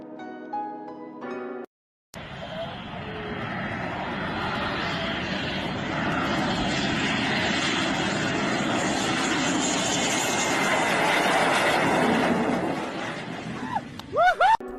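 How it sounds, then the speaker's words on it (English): An X-31 fighter jet coming in to land with a near tailstrike, its engine giving a steady, loud roar that builds over about twelve seconds, with a brief break early on and some faint chirps near the end. "This X-31 nearly has a tailstrike while landing."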